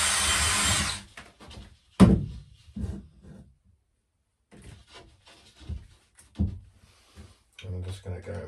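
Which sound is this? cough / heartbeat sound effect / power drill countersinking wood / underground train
power drill countersinking wood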